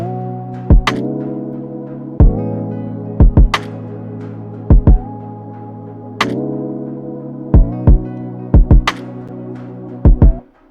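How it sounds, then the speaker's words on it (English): A layered snare with reverb strikes in an emotional RnB beat, giving sharp, punchy hits in an irregular groove over a sustained low bass hum that swells and cuts out between phrases. "I layered it to the snare and added a reverb, which made the click of that snare have a very hard punch."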